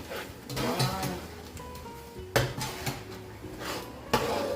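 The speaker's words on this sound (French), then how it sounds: "Donc je remue bien" A spoon stirring tomato sauce in a metal cooking pot for tiebou diaga, with steady scraping and clinking against the pot sides and a couple of sharper knocks, close and clear, no talking.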